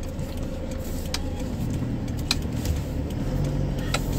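A Toyota Hilux Vigo Champ pickup drives along a road, its engine a steady medium drone with road and cabin rumble, a few faint clicks on top.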